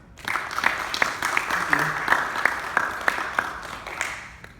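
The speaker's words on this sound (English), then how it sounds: "We give applause to Mr. Dewan." An audience at a technical conference oral presentation applauds after a talk, with scattered sharp claps over a steady murmur that lasts several seconds before fading.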